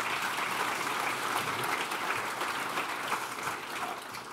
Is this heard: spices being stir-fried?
no